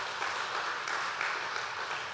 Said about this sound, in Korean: 우리 힘찬 박수로 한번 격려합시다.